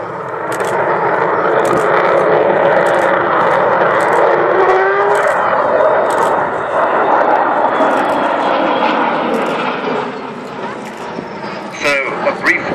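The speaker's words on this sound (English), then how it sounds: "Vulcan howl, that unique sound that the four Olympus engines make" A loud, sustained roar and rising and falling howl from the four Olympus jet engines of Avro Vulcan bomber XH558 at an air show display, close and dominant throughout, easing slightly toward the end.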